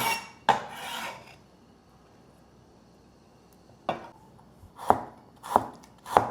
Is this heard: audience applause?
no